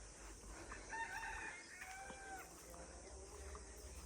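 A jalali pigeon caught in a net gives short high calls, a few brief chirping notes over a faint steady hiss of outdoor background.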